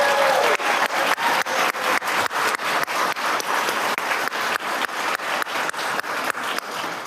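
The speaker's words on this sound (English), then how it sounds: "can we just get a big round of applause to our ward chamber orchestra who crushed it?" Audience in a school district board meeting room applauding a chamber orchestra, loud sustained clapping with a rhythmic, pulsing pattern of many hands, close and continuous throughout with no talk over it.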